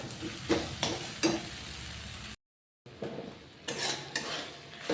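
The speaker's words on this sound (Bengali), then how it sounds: "কষা হয়ে গেলে একটু ভালো করে কষাতে হবে মশলাটা" Spice masala for a mushroom curry is stirred and fried in a pan, with a spoon scraping in a few distinct strokes over a steady sizzle and a short silent gap midway.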